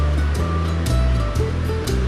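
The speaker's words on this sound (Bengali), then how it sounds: "তেলটা গরম হওয়ার পর পেঁয়াজ কুচি করা ওগুলি দিয়ে দিব" Chopped onions hit hot oil in a pan and fry with a loud, steady sizzle close by, with some low clattering underneath and no talk.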